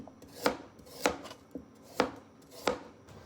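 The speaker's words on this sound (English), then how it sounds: "I cut this one into rangiri small rolling cuts" Four crisp knife chops through carrots on a cutting board, evenly spaced at a slow, steady pace, close up with no talking.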